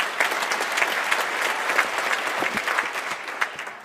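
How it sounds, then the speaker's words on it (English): Audience applause fills a university concert hall during a mayoral swearing-in ceremony in Akron, a steady, dense clapping from a large crowd that holds level throughout with scattered sharper claps standing out. "You can clap for that."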